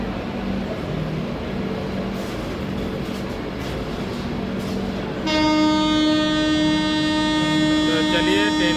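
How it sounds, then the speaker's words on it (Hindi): The Howrah–Pune Azad Hind Express standing at an Indian railway station, with a steady rumble of station and train noise, then a loud sustained horn blast that begins partway through and holds to the end; a few faint voices sound in the background. "दूसरे साइड पे अभी अभी आई है आज़ाद हिंद एक्सप्रेस"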